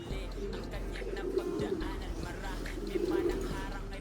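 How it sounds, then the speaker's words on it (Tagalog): Pigeons in a home coop, including a pair with young, give soft low cooing calls that swell twice over steady background noise and faint talk. "Tingnan niyo yung ginagawa mga kalapatids."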